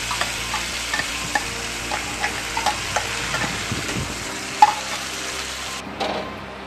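A ground paste of onion, ginger, garlic, green chili and tomato fries in a pan with a steady, close sizzle, broken by regular scraping strokes of a spatula and one sharper knock near the end.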